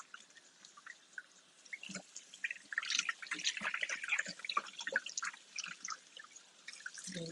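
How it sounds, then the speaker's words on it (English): Beef pot roast rinsed under running tap water, a soft, steady splashing and dribbling stream with small drips, close but fairly quiet, no talk. "Do y'all rinse your meat off? Because I'm gonna rinse it off."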